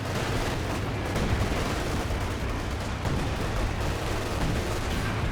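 A heavy artillery barrage in the video game Company of Heroes 2 gives a dense, continuous roar of overlapping blasts and gunfire, loud and unbroken throughout with a rumbling low end.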